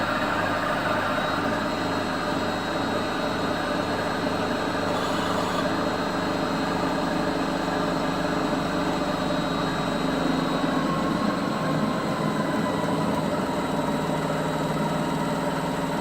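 A Giant GB-3 vibratory finishing machine running on a skid, giving a loud, steady droning hum with a constant mechanical rumble and rattle that holds unbroken throughout.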